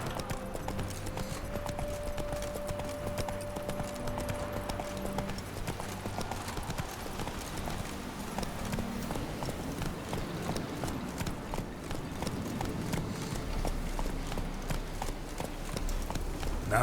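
Hooves of Roach, the horse in The Witcher 3, clop in a fast, continuous galloping rhythm, steady and fairly close beneath soft game music, with no talking.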